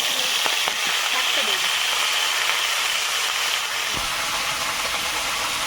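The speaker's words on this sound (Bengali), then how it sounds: "একটু গোটা জিরে তেলের মধ্যে জিরেটা একটু নাড়াচাড়া করে নিলাম" Whole cumin seeds frying in hot oil in a wok during village cooking, a loud continuous sizzling hiss with a few faint clinks of stirring underneath.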